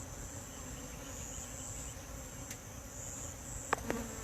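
Honey bees hum steadily around an open hive during a frame inspection, a low continuous buzz throughout with a couple of brief louder passes near the end.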